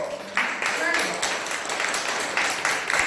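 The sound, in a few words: congregation applauding in church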